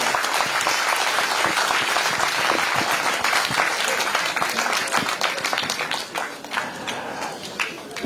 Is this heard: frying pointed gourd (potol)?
no